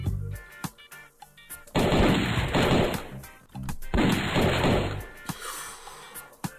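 An enemy's shotgun fire in the Skull Kid flash game comes as two loud, harsh blasts, each lasting over a second, with short clicks and game effects between them.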